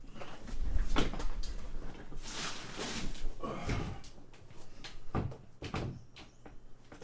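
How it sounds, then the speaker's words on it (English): A door being shut, a couple of muffled knocks and bumps over faint background noise, close and moderately quiet, with no clear talking. "I just really felt like closing the door."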